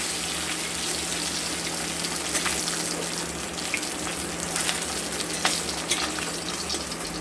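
Large pieces of katla fish frying in plenty of hot oil, a dense continuous bubbling sizzle that stays loud and close throughout with faint stirring crackles and no talk.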